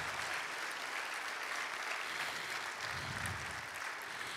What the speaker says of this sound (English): Y'all clap for my mama.